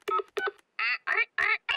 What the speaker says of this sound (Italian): Adesso telefono a Nonna Pig.